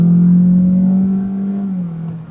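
A Honda Jazz Hybrid engine drones steadily as it accelerates hard, a loud low hum that gradually eases off toward the end.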